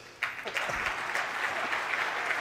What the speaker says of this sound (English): I think this deserves a louder applause than that.